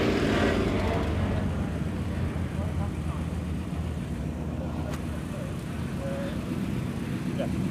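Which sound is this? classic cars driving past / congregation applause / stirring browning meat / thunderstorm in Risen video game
classic cars driving past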